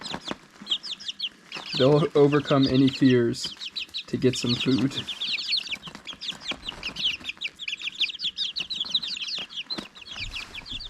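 Bantam chickens in a brooder cluck and chirp in steady high bursts throughout, with a person speaking briefly partway through.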